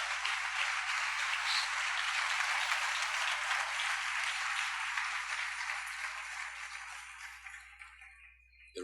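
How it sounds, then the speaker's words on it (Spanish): A church congregation breaks into sustained applause, dense and steady clapping that fills the room at close range, then gradually thins and fades toward the end. "denle un aplauso al Señor"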